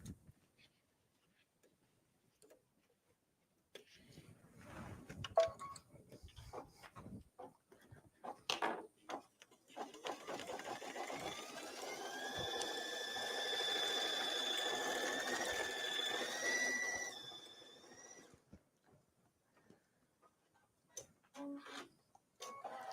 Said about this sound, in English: So while that's embroidering the letters